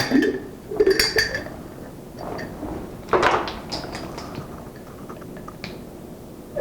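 A spoon scraping and clinking against a bowl while homemade CBD bath salts are mixed, a few sharp clinks and gritty stirring strokes in close quiet bursts separated by pauses.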